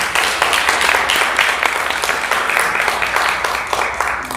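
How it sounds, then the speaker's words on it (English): An audience at a voter ID education event breaks into loud, dense applause, the clapping sustained evenly from start to finish. "So please just give them a round of applause."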